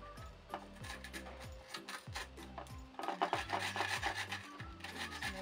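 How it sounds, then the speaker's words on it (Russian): Grating on a kitchen grater while making rustic baked potatoes and sauces, a steady rhythmic rasping of strokes that grows louder and denser partway through, close up, with no talking. "Тру на терке. Сейчас быстренько натрем"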